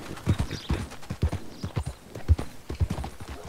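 Horse hooves clip-clopping through a town in the Red Dead Redemption 2 video game: a steady, uneven trotting rhythm of dull thuds, fairly close, with no talk.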